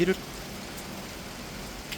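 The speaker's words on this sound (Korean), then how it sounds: "아, 비가 옵니다. 비가 와." Rain falls during the monsoon season as a steady, even hiss that fills the clip, with a brief voice at the start.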